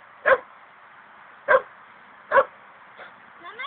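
A dog barks three times in clear, evenly spaced single barks, then gives a softer yip or whine at the end, with a quiet outdoor background.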